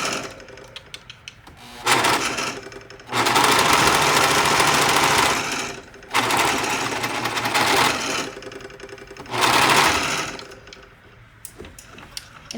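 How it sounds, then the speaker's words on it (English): A sewing machine topstitches the armholes of a baby top made from old basketball shorts, running in several loud, steady bursts separated by short pauses and quiet handling sounds. "We're eventually going to finish it and then fold it under and top stitch it down to make a nice clean finish."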